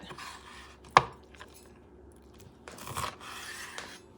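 A knife cuts pork heart into cubes for a Puerto Rican gandinga stew, giving one sharp chopping strike followed by quieter scraping and rustling on the board.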